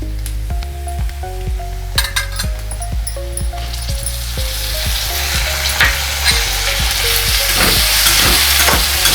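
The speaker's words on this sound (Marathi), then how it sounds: "तर आता आपला कांदा लालसर झालेला आहे तर आता आपण टोमॅटो घालूया" Tomatoes go into onions fried until reddish for a Marathi eggplant (vangyachi bhaji) curry, producing a loud, steady sizzle and frying crackle with stirring scrapes and a few clinks of the pan throughout.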